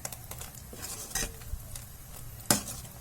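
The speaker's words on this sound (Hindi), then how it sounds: "इस तरीके से कढ़ी को ऊपर नीचे करते रहना है।" A ladle stirs boiling kadhi, a curd and gram flour curry, in a pot, with quiet scraping and sloshing marked by a couple of sharper clanks against the pot, close but faint.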